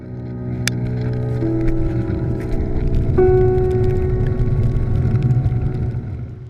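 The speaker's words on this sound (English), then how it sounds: "tugboats in Bluff Harbour" Tugboats working in Bluff Harbour give a steady, loud engine drone with low rumble and tonal whine, continuous throughout with a pitch shift partway, no talk.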